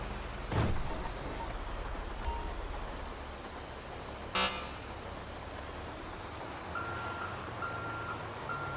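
Garbage truck reversing beeps in GTA 5, a steady repeated beeping carried under loud engine rumble, with a couple of sharp louder hits along the way.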